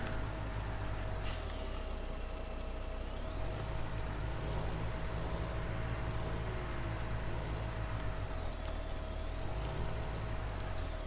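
A truck in Farming Simulator 2017 reverses with a steady low engine drone, rising and falling revs and a hiss of air brakes, heard alone without talk.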